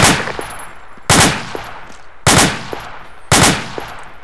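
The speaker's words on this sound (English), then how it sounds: "What direction are you shooting at?" Four loud, sharp gunshots fired at an even pace about a second apart, each followed by a short decaying echo, with no talk over them.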